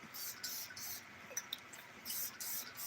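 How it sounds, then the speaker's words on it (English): LOEWE 001 Man perfume sprayed from an atomizer gives a run of soft, short hissing puffs in quick succession, faint and close. "Let's spray it."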